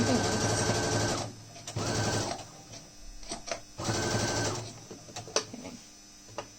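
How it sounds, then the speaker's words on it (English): Close, loud whirring of a sewing machine stitching a fabric face mask in two or three short runs, broken by pauses with handling clicks and a voice speaking. "Make sure you don't sew over anything else."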